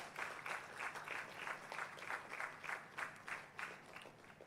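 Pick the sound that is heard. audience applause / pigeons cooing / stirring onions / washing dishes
audience applause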